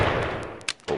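Semi-automatic gunfire in the VR shooting game Gun Club VR: a few sharp single shots spaced irregularly within about a second, close and loud, with no voice.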